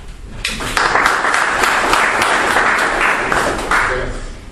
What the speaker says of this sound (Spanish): bien vale la pena por lo menos un aplauso